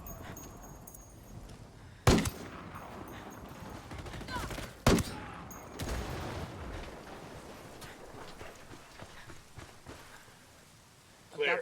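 Gunfire in the video game Ghost Recon Wildlands: sharp, loud shots crack out in bursts around two, five and six seconds over a rumbling, busy battle bed, with a final shot at the end.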